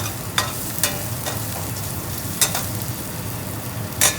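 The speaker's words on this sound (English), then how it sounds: "When sauteing your vegetables, it's important to start at a low heat to avoid burning" Vegetables sautéing in olive oil in a pan give a steady, close sizzle, broken by several crisp scraping ticks as they are stirred, with no voices.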